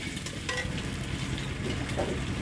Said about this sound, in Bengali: হলুদ দেওয়ার পর দেখেন গাইস কীভাবে লাড়ছে